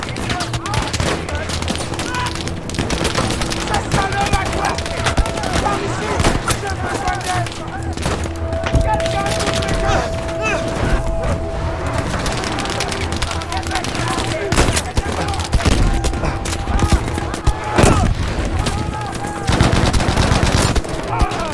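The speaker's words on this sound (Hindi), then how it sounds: "बहुत तेज गोलियां चल रही है" Heavy, dense gunfire from a Battlefield V campaign mission: continuous rapid bursts of automatic weapons and sharp shots with occasional booms, loud and unbroken throughout, with voices faintly mixed in.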